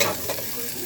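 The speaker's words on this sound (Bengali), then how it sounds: "সবজিগুলো আমার ভাজা ভাজা হয়ে গেছে, এবার অল্প একটু নুন দেব, দিয়ে নাড়বো।" Vegetables for chirer polao sizzle in a pan while being stirred, a dense continuous frying hiss with a scrape of the spatula near the start, close and alone without speech.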